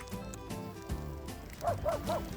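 A dog gives three quick, sharp barks in a row over a constant low rumble of background noise.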